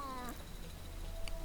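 A Terraria sword fires cat heads and rainbows, giving brief, faint meowing game effects with short descending tones over a low steady hum.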